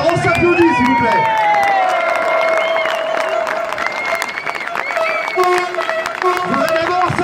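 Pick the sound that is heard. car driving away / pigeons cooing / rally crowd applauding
rally crowd applauding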